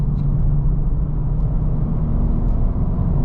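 From inside a 2024 Acura Integra A-Spec with a 6-speed manual, a low, steady exhaust growl and road rumble carries on evenly while the car drives.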